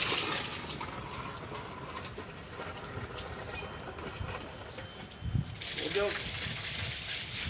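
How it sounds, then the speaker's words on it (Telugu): Water from a large motor pump gushes onto a cow-dung-plastered floor, a steady broadband rush that holds throughout with a brief splash near the middle, while a person talks over it. "వాటర్ పడుతుందని చూడండి."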